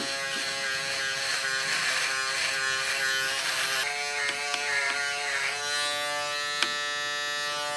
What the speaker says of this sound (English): This is their new CoolTec CT2S electric razor, and it's got this cooling control switch which gives an active cooling function.